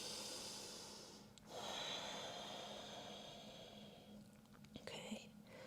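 Slow, deep breaths during a yoga stretch, a long soft exhale and then another airy breath, faint and close with quiet room noise behind.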